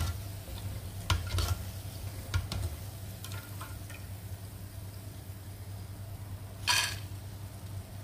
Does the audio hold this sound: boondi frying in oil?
yes